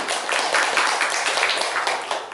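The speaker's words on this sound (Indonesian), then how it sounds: "Tepuk tangan semuanya" A group of children clap their hands together in a lively classroom Quran lesson, producing a dense, steady patter of overlapping claps at close range with no talking.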